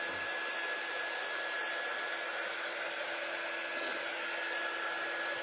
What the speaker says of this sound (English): Do you want the larger heat tool?